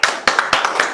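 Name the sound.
applause, people clapping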